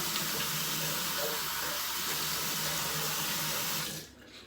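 Tap water runs steadily into a bathroom sink during a shave, a loud, even hiss and splash lasting about four seconds before it is shut off abruptly.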